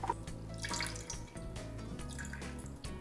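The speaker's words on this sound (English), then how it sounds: "Now I'm gonna add the water, 270 grams of water." Water is poured into gingerbread loaf dough during mixing, 270 grams in all, making a steady close splashing and running sound that lasts throughout with no talking.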